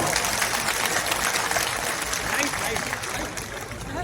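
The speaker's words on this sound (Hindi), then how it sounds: "ताली बजा दो भाई" A crowd at a public meeting in Sanjay Colony, Bhati Mines, Delhi, breaks into thick, continuous applause that stays loud and then eases slightly near the end.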